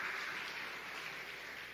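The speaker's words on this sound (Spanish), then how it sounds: "Un aplauso, aprecio para el pastor." A church congregation claps for the pastor in a short, faint burst of applause heard from a distance, a steady wash of clapping with no talk.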